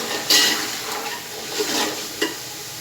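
Fresh green chickpeas frying in a pot for pulao, a soft steady sizzle with a few brief scraping stirs, close and moderately loud with no voices.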